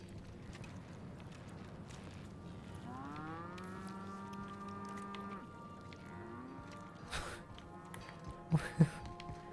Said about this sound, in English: Where did we get cows?